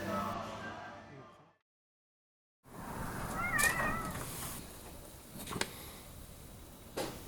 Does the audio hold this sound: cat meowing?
yes